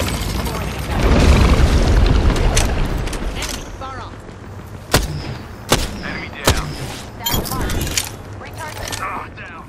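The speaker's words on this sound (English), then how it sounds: "They're shooting at me." Gunfire from enemy players in the battle royale video game Apex Legends, played in hardcore mode: several sharp, loud shots and booms cracking through a dense wash of game noise and effects, with a voice talking over much of it.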